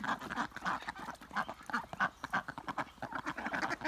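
A duck quacking repeatedly in a rapid, uneven run of nasal honking calls, close and fairly loud, with no talk over it.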